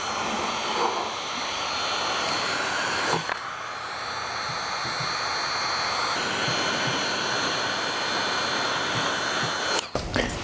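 A heat gun blows a steady, loud, even hiss while post-heating vinyl chrome delete wrap on the side doors of a 2020-2025 Kia Telluride, with brief handling knocks near the start and end.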